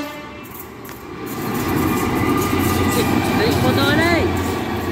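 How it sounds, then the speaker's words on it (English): A DB Cargo UK freight train hauled by Class 66 locomotive 66198, running from Toton North Yard to Donaldsmore Sidings, rumbles steadily and loudly through a station, with a sustained low roar building after the first second and a voice talking over it. "DB Cargo UK service from Toton North Yard to Donaldsmore Sidings. Should have 66198"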